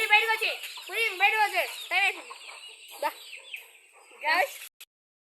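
Several chickens cluck and squawk nearby in short bursts, with a person talking over them.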